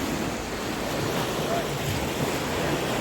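Ocean waves run high onto a beach, a loud continuous surf roar mixed with gusting wind buffeting the microphone, no voices.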